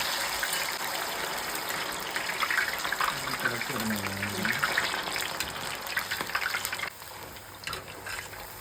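Raw banana pieces slipping into hot oil for sharkara varatti, bringing a loud, continuous rushing hiss of bubbling oil that swells and then eases slightly near the end, close up with no talk.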